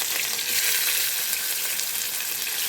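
A steady, bright sizzle of onion, garlic and chili frying in hot oil, close and continuous, with faint stirring and no voices.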